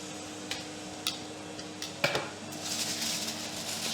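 Baby back ribs for a pellet smoker are wrapped up, starting with a few light clinks and taps and then moving into a steady, close crinkling rustle of wrap, heard without speech.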